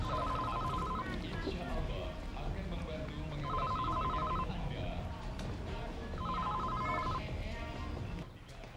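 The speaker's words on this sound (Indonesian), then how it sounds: "Ada telepon." An indoor telephone rings in three separate long trilling bursts, evenly spaced several seconds apart, heard over a constant bed of background talk and room sound.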